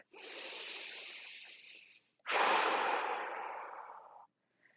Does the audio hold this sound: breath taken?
yes